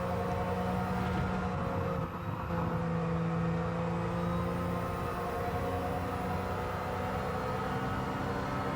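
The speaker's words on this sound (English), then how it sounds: "I get a strange phone ringing sound from the gearbox of this car as you're driving up these corners." Gearbox whine from a kei car in Gran Turismo 7, a steady layered tonal hum under the engine drone that holds on continuously, loud and close, with no talk.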